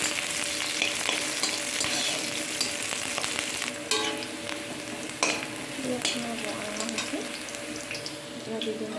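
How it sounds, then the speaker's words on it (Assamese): Onions fry with panch phoron in hot oil, giving a steady close sizzle broken by occasional stirring clatters of a utensil against the pan. "পিঁয়াজখিনি অলপ ভালকৈ ভাজিব লাগিব"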